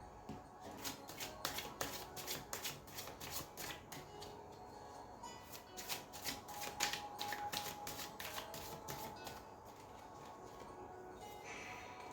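Tarot cards are shuffled close by in quick, crisp riffling flutters that repeat in bursts over a quiet background.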